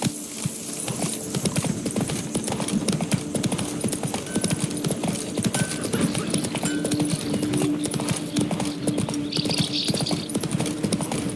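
The horse Roach gallops in The Witcher 3: Wild Hunt, a steady rapid clip-clop of hooves that is loud and continuous for about eleven seconds against faint game ambience.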